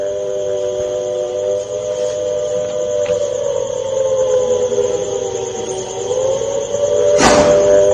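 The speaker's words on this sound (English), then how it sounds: "sirens are ringing in Punjab's Firozpur as well" Air raid sirens wail steadily in Firozpur, Punjab, a loud sustained tone with a slowly wavering pitch that holds for the whole stretch, with a brief hissing burst near the end.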